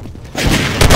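Gunshot through a wall in Half-Life 2 Deathmatch: after a quieter moment, a loud booming blast hits near the middle, and a second heavy burst follows just before the end.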